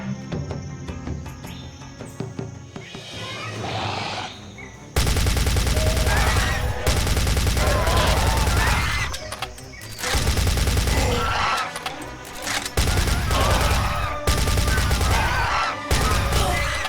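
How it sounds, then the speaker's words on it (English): An automatic machine gun in the Wii shooter Dino Strike fires in long continuous bursts, loud and close, starting after a quieter opening and breaking off briefly between sustained streams of rapid shots. "Automatic machine gun. Just hold the trigger and mow down anything in your way."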